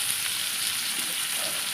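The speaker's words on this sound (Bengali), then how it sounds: "এবার আমি পেঁয়াজ কুচিটা দিয়ে দেবো" Chopped onion frying in hot oil with a pinch of salt in a home kitchen, giving a continuous, even, close hiss of sizzling for a brief moment.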